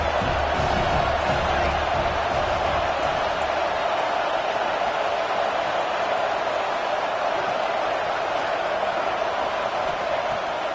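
Stadium crowd in a football video game roars with steady, dense cheering throughout, a broad continuous wash of noise with no breaks, loud and sustained.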